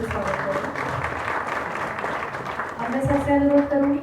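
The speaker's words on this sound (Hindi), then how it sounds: "जोरदार तालियों से स्वागत करूँ।" At an All India Ayurveda conference honouring the AYUSH minister, a hall audience gives welcoming applause, a steady clatter of clapping that swells louder toward the end while music plays underneath.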